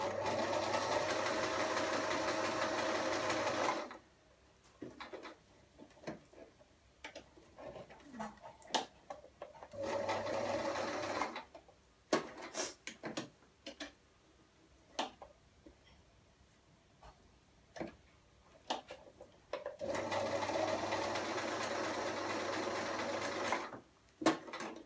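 A domestic sewing machine stitching a side seam runs in three long steady bursts, with quieter handling clicks and rustles in the pauses between runs.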